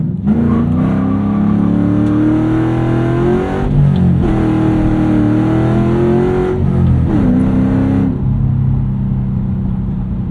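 A 2007 Ford Mustang Shelby GT with a loud S197 5-speed setup launches off the line. Its engine revs climb in a loud, close drone with three gear-change dips before the note settles.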